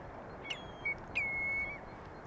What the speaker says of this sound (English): Where is that bird I'm hearing?